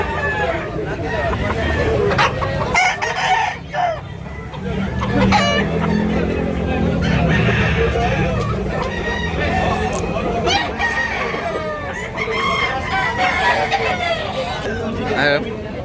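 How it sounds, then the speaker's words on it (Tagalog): Chickens and roosters at a poultry market in Tabunok, Cebu City, crow loudly and cluck continuously and close by, under a constant babble of people talking. "Mga manok."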